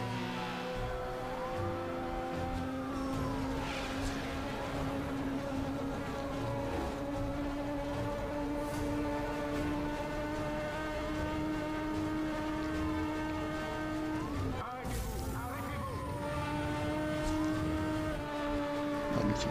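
Engines roar in a police chase in the video game Need for Speed Hot Pursuit Remastered, with a Crown Victoria police car in pursuit. The steady, loud drone has pitches that rise and fall, a sharp impact-like burst near the end, and no talking.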